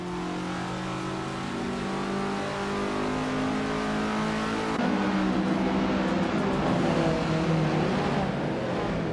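A 1965 Alfa Romeo GT-A race car engine during a race, a sustained close loud engine drone with a steady high whine that shifts in pitch halfway through as it accelerates.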